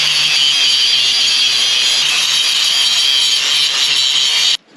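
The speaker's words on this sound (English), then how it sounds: "let's clean it up with the grinder" Power grinder cleaning up a homemade metal tool for removing pre-combustion chambers from a 1939 Caterpillar D4 diesel, a loud, close, continuous high-pitched whine and rasp lasting nearly five seconds before cutting off abruptly.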